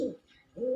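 A female pigeon coos with two soft, low, hooting pulses separated by a brief gap, close and quiet.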